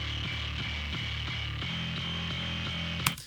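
A heavily distorted bass guitar plays a steady, chugging low pop punk riff through a preset in a free plugin, with a buzzy, gritty tone, ending in a sharp click.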